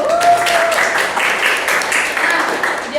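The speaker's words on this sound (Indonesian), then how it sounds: "Boleh tepuk tangan dulu." Applause rises from a live audience at an Indonesian podcast recording, moderate and continuous, with a voice or tonal sound briefly audible over it.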